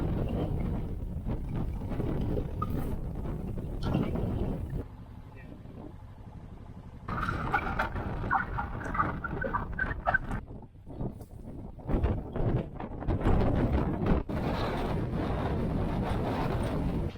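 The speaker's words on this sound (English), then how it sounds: "It is windy out there." Gusty wind buffets the microphone on an open farm, rising and falling in rough bursts, with people talking intermittently over it.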